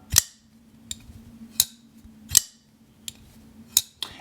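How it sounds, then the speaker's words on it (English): A Liong Mah XV integral pocketknife is opened and closed repeatedly, giving sharp metallic snaps and clicks at roughly even intervals over a faint steady hum, close and fairly quiet. "you do get some nice sounding when you deploy the knife"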